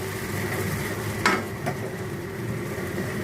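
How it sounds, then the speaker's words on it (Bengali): Tomato puree and prawn masala stirred in a pan, a quiet steady simmer and sizzle with one brief scrape of the spoon against the metal. "এবার এইটাকে আমি ভালো করে নাড়তে থাকবো,"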